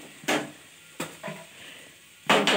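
Potatoes frying in a pan during home cooking, heard as a few brief scraping, sizzling bursts of stirring with a faint low hiss between them.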